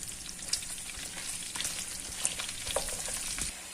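Steady sizzling of chopped onions and beef frying in a pan, with occasional stirring scrapes and pops, continuous and close.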